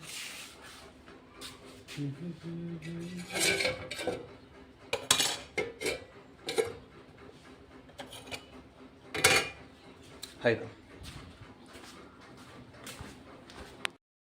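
A pot lid goes onto a pot of cooked lentils (dal) in a home kitchen, with a few metallic clinks and scrapes of metal on metal at close range between quiet stretches.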